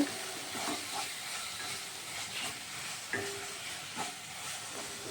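A jackfruit and prawn mixture for kofta is sautéed in a pan, a soft, continuous sizzle broken by repeated stirring scrapes and light utensil knocks.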